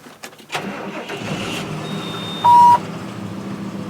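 A snow blower engine catches and starts up for clearing a snowy driveway, a rough mid-pitched motor settling into a steady run, with a brief electronic beep partway through.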